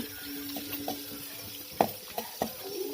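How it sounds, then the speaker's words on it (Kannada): Whole black peppercorns and cumin seeds sizzle softly in hot oil in a pan, with a few sharp clinks of a spoon stirring against the metal. "ಒಂದು ಐದು ಸೆಕೆಂಡ್ ಹಿಂಗೆ ಹುರ್ಕೊಂಡ್ರೆ ಸಾಕಾಗುತ್ತೆ ಸ್ವಲ್ಪ ಎಣ್ಣೆ ಫ್ರೈ ಆದರೆ ಸಾಕು"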